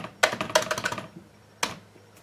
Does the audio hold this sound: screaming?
no